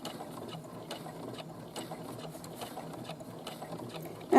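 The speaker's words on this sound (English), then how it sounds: "but you're getting used to the sewing machine." A sewing machine stitches a 5/8-inch sample seam at a slow, steady pace, its needle mechanism clattering in an even mechanical rhythm throughout.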